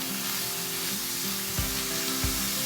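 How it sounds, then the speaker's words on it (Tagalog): Ground meat sizzles loudly in a hot pan, with a couple of soft scraping stirs against the metal. "ngayon po ay lagay na natin yung karne. Yung diniling."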